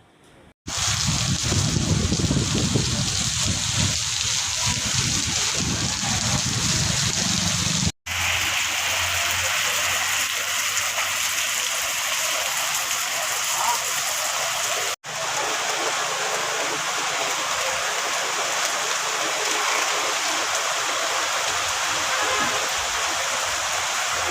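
Heavy monsoon rain pours down during the first rain of the season in the Diyodar area of Banaskantha, a steady, dense rushing downpour close by with two brief cuts, no voices.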